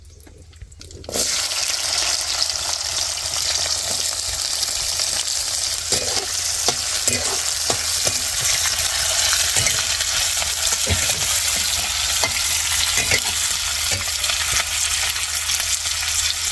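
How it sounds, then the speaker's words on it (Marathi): Finely chopped onion hits hot oil with cumin and mustard seeds in a kadai, bursting into a loud, steady sizzle that starts abruptly and continues unbroken with faint clinks, no voices. "आता जिरे मोहरी सोडून घेते. बारीक केलेला कांदा टाकून घेते."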